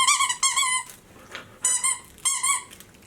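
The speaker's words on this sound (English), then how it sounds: "the inside has a big old loud squeaker in it" A big, loud squeaker inside a crinkly plush duck dog toy gives three shrill, wheezing squeaks in quick succession, close and clear, with faint rustling between.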